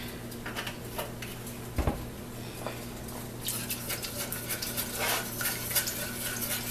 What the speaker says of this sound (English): now this is very liquidy, so stir slowly to incorporate the roux with the liquid